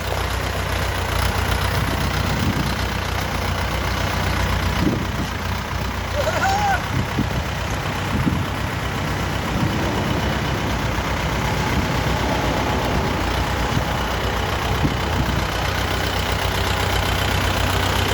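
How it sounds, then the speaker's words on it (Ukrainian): A four-cylinder diesel tractor engine on a Sintai 454 idles steadily throughout, a low continuous rumble with a faint voice murmuring now and then underneath. "Чотирьохциліндровий дизельний двигун"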